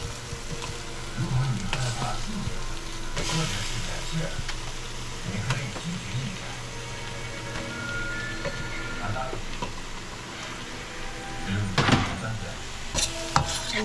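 Beef sinigang being stirred in a pot with radish, a steady sizzling bubble under intermittent scraping and clinking of the utensil against the pot, with a faint voice now and then.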